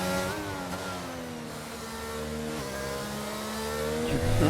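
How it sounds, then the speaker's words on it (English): Red Bull engine of an F1 car in a racing video game at the Netherlands track, a steady high revving whine with gear shifts and rising pitch, loud and continuous. "you can tell it's a Red Bull engine just from how it sounds"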